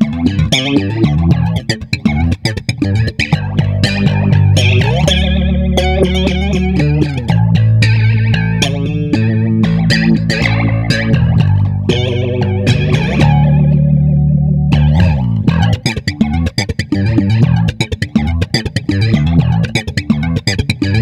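A bass guitar plays a melodic line through a Soundblox 2 Orbital Modulator pedal, tone swirling and pulsing, loud and steady with no talking throughout.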